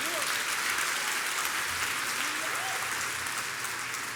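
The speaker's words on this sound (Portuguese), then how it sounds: "Dá uma salva de palmas aí." A church congregation gives a round of applause during a sermon. The clapping is dense and steady, fairly loud and close, and holds evenly for the whole stretch.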